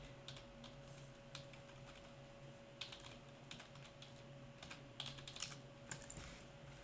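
Quiet clicking from a computer keyboard as a search is typed, a steady patter of light keystrokes over a constant low hum, with no talking.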